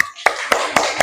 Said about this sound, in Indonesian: mari kita beri tepuk tangan untuk kelompok 3